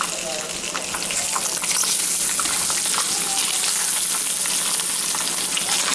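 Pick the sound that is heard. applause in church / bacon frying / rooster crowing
bacon frying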